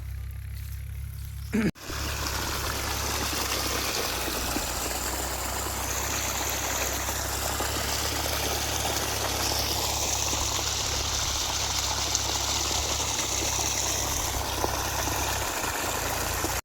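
A water pump motor irrigating a field hums steadily while water rushes and gurgles continuously beside it, after a brief click at the start.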